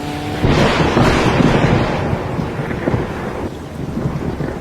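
Steady downpour of monsoon rain with low rolling thunder rumbling through it, loud and continuous across the whole stretch in a rural village setting.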